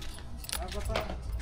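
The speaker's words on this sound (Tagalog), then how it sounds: "Suli natin yung susi." Keys jingle and clink close by in short metallic rattles, set against a busy, noisy background with some voice-like sound.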